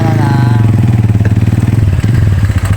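A motorcycle engine runs steadily nearby with a throbbing, rhythmic chug and a slight shift in pitch partway through.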